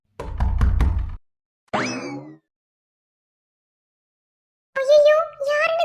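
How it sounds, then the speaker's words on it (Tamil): A series of rapid knocks on a door, loud and close, in a short burst, then a gap before a springy, boing-like sound and later a raised voice. "சரி கதவை தட்டுவோம்."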